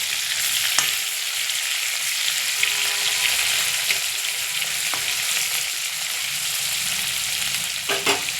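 Prawns frying in oil until reddened, a steady close sizzle and crackle with occasional sharp pops and spatula scrapes, no voices.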